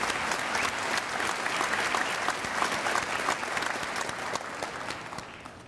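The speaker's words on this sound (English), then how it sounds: "Let's give Mr. Horn a round of applause for his stellar 22-year career." Sustained audience applause fills a university commencement ceremony, a dense steady wash of clapping from a large crowd that holds evenly before tapering slightly at the end.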